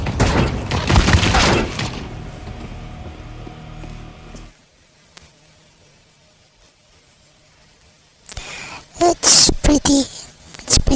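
Rapid bursts of UMP submachine gun fire in a video game crackle loudly at the start, then fade to a quiet stretch before more sharp, choppy volleys return near the end.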